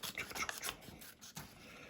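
Quiet, close scissor snips and rasping cuts through paper, a few uneven strokes in a soft, still room.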